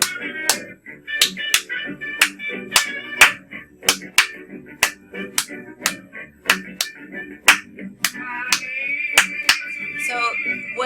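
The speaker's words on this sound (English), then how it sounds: "what I was just clapping was the clave part" Sharp hand claps tap out the Latin clave rhythm in a repeating pattern of crisp, close, loud strikes, with soft music playing faintly underneath.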